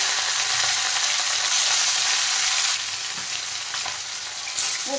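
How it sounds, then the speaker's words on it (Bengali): Katla fish fries in hot mustard oil with a loud, continuous crackling sizzle that eases slightly partway through, no voices. "তেল ভালোভাবে গরম হয়ে গেছে, এখন মাছগুলো দিয়ে দিচ্ছি।"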